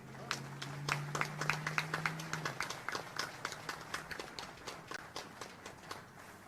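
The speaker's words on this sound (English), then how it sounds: "Ladies and gentlemen, a round of applause for today's official party" An audience at a Montford Point Marine Day ceremony claps for the official party with a sparse, fairly steady patter of individual claps, with a brief low hum in the first half.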